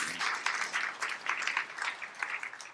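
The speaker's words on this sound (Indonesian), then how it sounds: "Tepuk tangannya paling baik." A church congregation applauds during a sermon, many hands clapping in a lively, fairly loud burst that swells and eases in waves over nearly three seconds with no speech.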